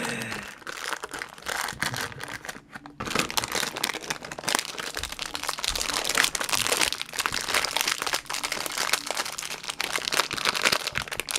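Crinkling and crunching of taped packaging being torn open on a boxed YJ MGC 6x6 toy truck, continuous and close, with rustling throughout and no talk.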